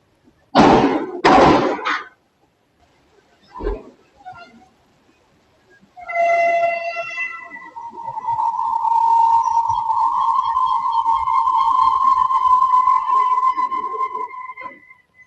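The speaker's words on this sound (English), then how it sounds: "one shows the moment that the train derailed" A train derailing: loud clanging bangs and a thud, then a long grinding metallic screech with squealing tones that drags on for several seconds before fading.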